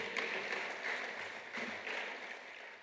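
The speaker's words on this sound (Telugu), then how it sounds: "చప్పట్లు కొట్టి దేవుని స్తుతిద్దాం" A church congregation claps in praise during a sermon, a sustained, fairly distant wash of many hands clapping together with no clear voice on top.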